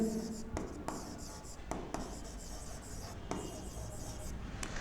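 A teacher writes on a board during a Class 11–12 biology lesson on biomolecules, giving soft scratchy chalk or marker strokes in short bursts with pauses, quiet and close, with a faint background hum.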